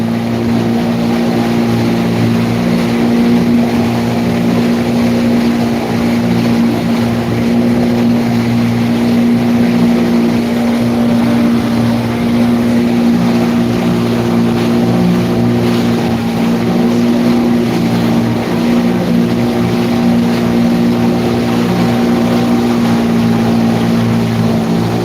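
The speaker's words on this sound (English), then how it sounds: "The wind's picking up." Wind sweeps over the open ocean beside a moving boat, a steady loud rush on top of a constant engine drone that never lets up and carries no talking.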